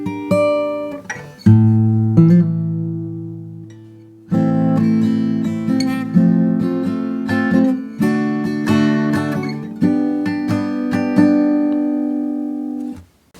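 Acoustic guitar plays the intro of a song, single picked notes leading into ringing strummed chords, close and clear with no voice.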